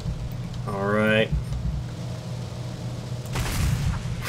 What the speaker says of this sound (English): The explosions, guys, the explosions.